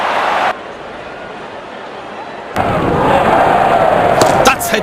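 Bat cracking into the ball for a six in Real Cricket, an India vs New Zealand T20 video game match, a sharp hit that rises over a steady crowd roar, then sudden quieter stretches and a few clicks.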